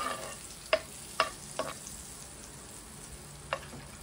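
Butter and beef sizzle quietly in a pan under a soft, steady frying hiss, with a few sharp utensil clicks and scrapes spaced irregularly.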